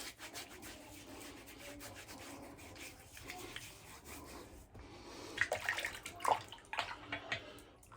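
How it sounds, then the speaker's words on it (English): Quiet trickling and splashing as a little water is patted onto the face during a wet shave, soft and close, with brief louder splashes toward the end and no talk. "get a touch of water on my face"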